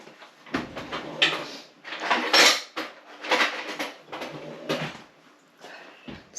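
Metal cutlery clinks and rattles as a spoon is fished out from among kitchen utensils while cooking stuffed pork rolls with cream sauce; several bright, close clattering bursts over about six seconds.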